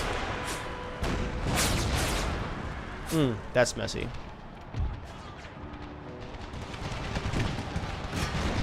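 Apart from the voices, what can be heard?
cannons firing canister shot in Empire: Total War mod video game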